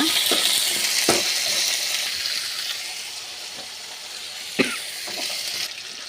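Raw plantain pieces stirred in hot frying oil, giving a steady broad sizzle with a few sharp scrapes of the spoon against the pan, close and fairly loud with no talking.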